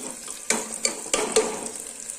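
Onions frying in a pan while a spoon stirs them, giving a steady soft sizzle broken by four or five distinct scraping strokes, close and fairly quiet with no talking.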